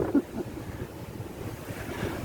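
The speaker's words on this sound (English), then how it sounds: "it's really windy out here" Strong wind at a beach buffeting the microphone with a low, steady rumble and soft surf in the background, with no voices.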